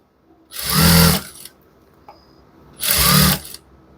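A domestic sewing machine stitching a folded half-inch shirt hem runs in two loud, close whirring bursts of about a second each, with a short quiet pause between them.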